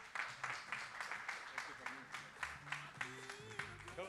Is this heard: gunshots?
no